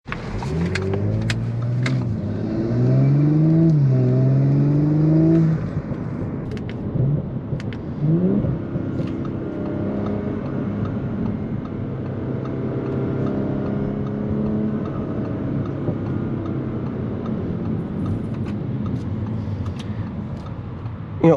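A 2022 Audi S4 pulls away and accelerates onto a highway, engine revving strongly at first with rising pitch, then settling into a steadier cruising drone with road and wind noise.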